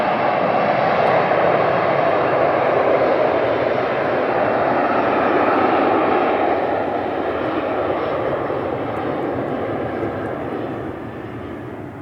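Emirates airliner passing overhead, a loud, steady broadband jet roar that fades slowly toward the end, with no speech.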